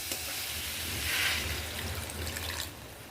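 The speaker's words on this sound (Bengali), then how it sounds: "এই অবস্থায় আমি একটু জল দিয়ে দেবো" Water poured into a pan of frying onion curry, a brief splashing rush swelling over the low sizzle of the spices before settling back to a gentle bubbling fry.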